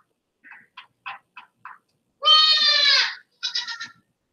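Goats bleat close by: a few short nasal calls, then one long wavering bleat and a shorter stuttering one, alone against silence.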